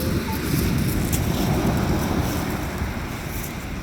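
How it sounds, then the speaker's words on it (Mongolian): Rough sea waves surging and washing up onto a beach, a continuous loud broadband roar of surf with steady wind noise throughout and no talking. "Одоо ус наашаа ирэн шүү."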